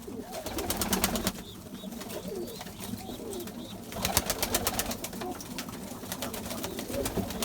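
White Erzurum pigeons and their squabs coo continuously at close range, with soft rustling and brief flurries of wing movement in between the calls.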